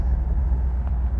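A 1969 Chevrolet Camaro drives along, a steady low engine and road rumble heard from inside, brief and even.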